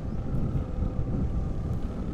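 Wind blowing across a microphone on a shady, cool provincial road toward Tagaytay, a steady low rushing buffet without talk.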